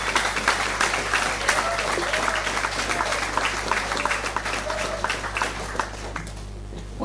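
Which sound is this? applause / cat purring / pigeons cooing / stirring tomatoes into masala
applause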